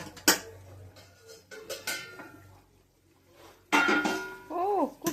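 A metal lid clinks and clatters as it comes off a pot of Bengali fish curry, a few sharp close knocks and scrapes with a voice speaking in between.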